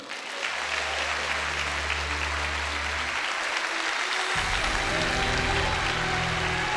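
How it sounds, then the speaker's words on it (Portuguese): A congregation applauds during a church service, with steady, continuous clapping and a low sustained musical tone underneath that fades out partway through. "Vamos aplaudir nosso Pai."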